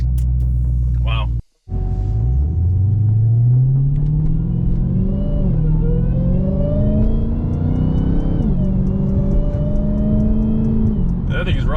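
Gen 2 Dodge Charger Redeye engine pulling hard after a corner, a loud close rising roar that climbs steadily in pitch through the gears, with one brief dropout near the start and a voice over the engine.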